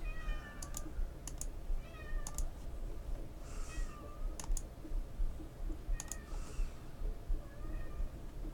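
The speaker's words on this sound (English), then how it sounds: "The other cat just arrived." A cat meows several times at moderate distance, short rising cries spaced a couple of seconds apart, over close, steady computer keyboard typing and clicking with a low background hum.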